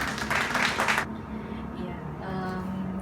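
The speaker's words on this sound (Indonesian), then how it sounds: "Tepuk tangan untuk kalian semua." Students in a classroom give a short burst of applause, brisk clapping that stops abruptly after about a second, followed by quieter murmuring and voices.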